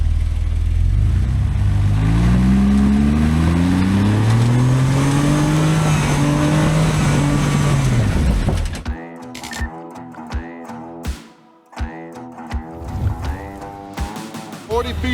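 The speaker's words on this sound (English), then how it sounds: "This is the fastest winch in its class with no load on it. It's insane how fast this thing spools in." An electric winch spools in its line fast with no load, a loud motor whine that rises and bends in pitch for several seconds, then stops as people begin talking nearby.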